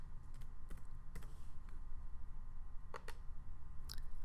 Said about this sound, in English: I'm just going to add in a diagnosis here, just by typing in the diagnosis text.